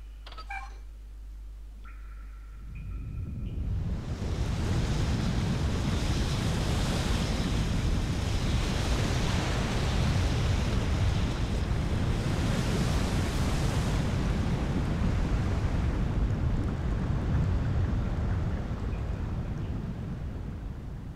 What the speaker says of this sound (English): The water has risen to the brim of the drain channel.